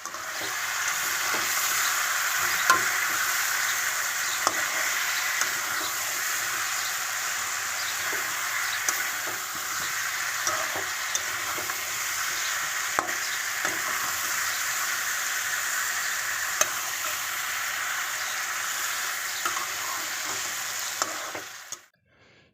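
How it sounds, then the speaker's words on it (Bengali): Chicken being sautéed and stirred in a pan at home, a constant close sizzle with regular spatula scrapes and small clicks running steadily for about twenty seconds before cutting off. "এদিকে চিকেনটা আমি খুব ভালো করে কষিয়ে নিচ্ছি"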